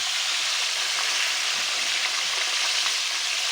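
Steady, loud sizzling and crackling of tilapia frying in hot oil, a continuous hiss with scattered pops and no voices.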